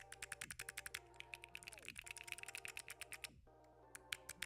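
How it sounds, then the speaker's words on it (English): Keycap clicker fidget toys snap out a rapid series of sharp, close clicks and thocks in an uneven rhythm, each a crisp tap like a mechanical keyboard, with no talking. "These are called clickers, okay? They're little thocks."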